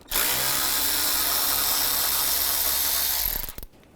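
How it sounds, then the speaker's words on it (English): A ratchet with a T25 socket backs a screw out near the fan shroud of a 2001–2006 BMW 325xi, a loud, steady buzzing ratchet whir close up for about three seconds, then stopping. "Use a T25 socket."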